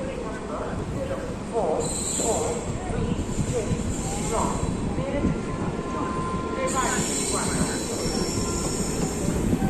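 Ajmer Janshatabdi Express pulling away from Gurgaon, a steady broadband rumble of rolling coaches with intermittent high wheel squeal, continuous and fairly close throughout.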